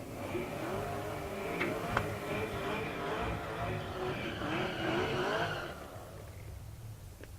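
Cars at a drag race at Tulsa Raceway Park, a C5 Corvette against a Camaro, engines roaring and revving steadily at a distance with a brief sharp spike, then fading toward the end.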